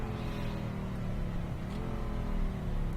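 A steady car engine in GTA V drones and revs throughout, a continuous mechanical hum with rising and falling pitch and no voices.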